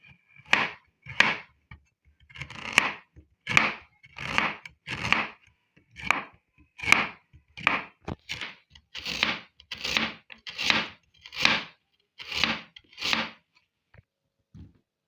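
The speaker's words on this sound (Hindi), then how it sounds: "अब मैं मूली काटूंगी। ये भी इसी तरह बिल्कुल राउंड शेप में काटनी है।" A knife slices a radish into round pieces on a cutting board, giving about eighteen crisp, evenly spaced chops close by, each a short sharp tap, with no talk.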